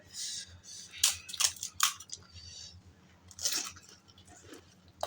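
Crunchy fuchka (pani puri) being bitten and chewed during an eating competition, several sharp crunches in bursts close to the mic, with quieter chewing between them.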